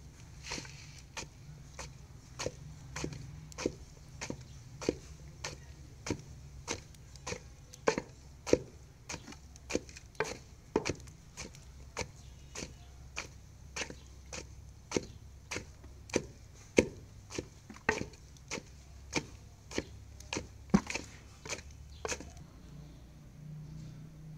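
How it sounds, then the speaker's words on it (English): Palm fruit being pounded in a mortar to make homemade palm oil: a steady series of sharp, regular thuds, roughly one per second, close and distinct against a quiet background before stopping near the end. "We are just going to keep pounding like this."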